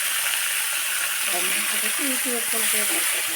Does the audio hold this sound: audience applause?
no